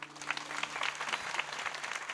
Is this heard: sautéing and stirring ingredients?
no